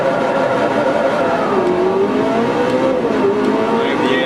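A race car engine in Forza 4 holds a loud, steady drone on track, its pitch sliding down and rising again with gear changes, while someone talks over it.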